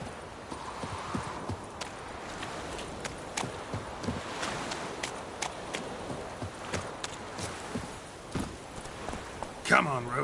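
Horse hooves clip-clop steadily through a video game scene as the mare Roach walks along, with a brief whinny near the end and a voice speaking over the hoofbeats.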